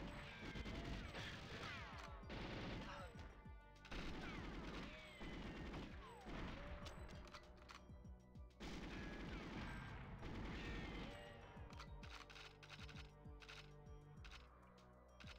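Gunfire in the GoldenEye 007 video game, with shots blowing apart crates: repeated loud bursts of shooting with smashing, crashing impacts, spread across the clip, near and continuous.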